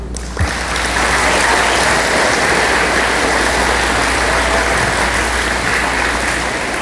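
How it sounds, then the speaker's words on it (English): A crowd gives a loud, sustained round of applause for teachers and administrators at a community mini-pitch soccer event for Hmong children in Minnesota, an even hiss of many hands starting after a brief pause. "I think we should give a round of applause to the teachers and administrators"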